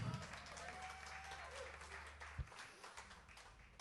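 Faint applause from a jazz concert audience at a sextet's show, a soft wash of clapping with a voice and some lingering low tones underneath.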